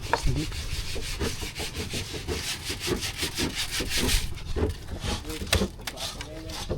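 Wood being sanded by hand with sandpaper ahead of painting, a steady close scraping rub repeating in quick strokes, with faint talk in the background.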